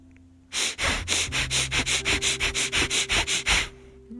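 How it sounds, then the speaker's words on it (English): Breath of fire: about sixteen rapid, forceful breaths through the nose, close and loud, in an even rhythm lasting around three seconds. "The breath of fire, right?"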